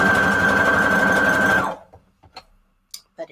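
A sewing machine stitches mini photo embellishments for a junk journal in a fast, steady whir for about a second and a half, then stops. A few faint clicks and taps follow.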